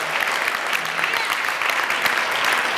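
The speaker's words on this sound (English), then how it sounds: "Another round of applause for Brandon." An audience at a youth and family services conference keynote applauds for Brandon, dense continuous clapping filling the room at close range.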